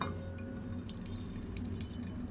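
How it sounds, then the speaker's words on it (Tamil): Water drips and trickles steadily, close by, as grated snake gourd is squeezed by hand in a kitchen. "இதே பாருங்கள் இன்னொரு வாட்டி நான் பிழிஞ்சு காட்டுறேன்."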